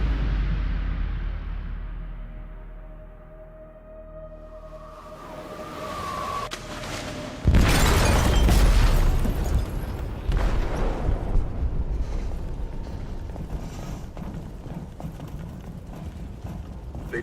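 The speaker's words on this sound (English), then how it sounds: "They detonated an explosive in the hold." A ship's hold explodes in the video game Detroit: Become Human, with a sudden loud blast at about seven and a half seconds, then a long rumbling, crackling roar after a quieter stretch of tense game sound.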